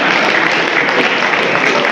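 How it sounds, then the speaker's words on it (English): Audience clapping during a police lecture at a university, a brief dense burst of loud applause that fills the whole moment without a break. "So clap for me."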